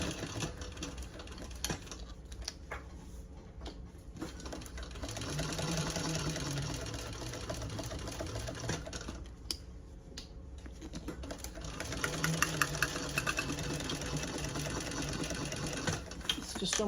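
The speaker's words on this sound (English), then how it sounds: "It's just so much easier top stitching on one of these machines." A sewing machine top stitches a tote bag, sewing over connectors with D-rings inside, in a steady rapid mechanical run that carries on through the clip and grows a little louder toward the end.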